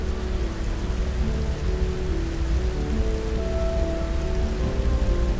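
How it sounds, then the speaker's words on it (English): Heavy rain pours steadily onto the Tongass rainforest in Alaska, a dense, continuous downpour drumming on foliage and ground with no pauses, close and enveloping throughout. "Rainfall like this is common in the Tongass"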